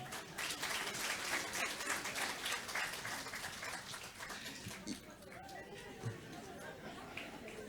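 Applause and crowd chatter fill a church steadily during a New Year's service, with clapping fading somewhat toward the end while voices carry on underneath.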